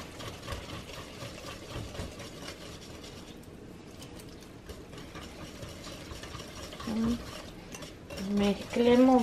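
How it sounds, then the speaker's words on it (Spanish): Pumpkin cupcake batter with vanilla stirred in a bowl, a steady wet scraping that runs throughout, with a few louder clinks of utensil against the bowl near the end. "Ahora vamos a mezclar todos estos ingredientes también."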